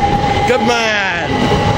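A British Rail Class 375 electric passenger train hums and whines past close by at Tonbridge station, with a rising and falling electric motor tone and rumbling wheels throughout.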